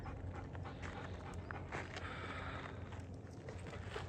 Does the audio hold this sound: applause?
no